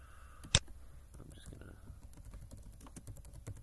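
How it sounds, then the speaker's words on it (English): Soft, faint keyboard typing on a computer ticks away in scattered keystrokes, with one loud click near the start and a low voice murmuring in the background. "You type in the name of your connection, that you put in the URL"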